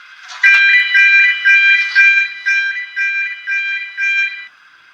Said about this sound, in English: this is a level crossing warning signal